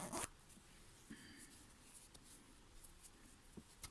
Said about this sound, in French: quand on ferme la fermeture